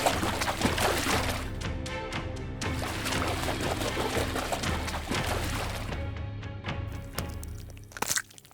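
Crocodiles dragging prey underwater in an African savanna river and spinning in a death roll, a loud, dense churn of crunching, splashing water that surges continuously, easing slightly before a final sharp burst of splashes.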